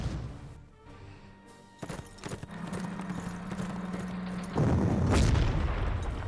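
Cavalry horses in the Panzer Corps video game: trotting hoofbeats clip-clop at moderate distance, joined by a short neigh and a heavy booming burst near the end, with no talking.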